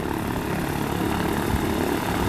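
A jet airplane departs Aurora Municipal Airport with a steady, loud, broadband engine roar that holds without a break and has no talking over it.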